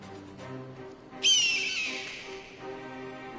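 A bright, sustained bird call sounds once in Final Fantasy XIV, rising sharply and then fading slowly over a low, steady background hum.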